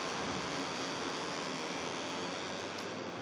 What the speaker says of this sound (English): All the guys are fired up and revving, and we are away for the warm-up lap.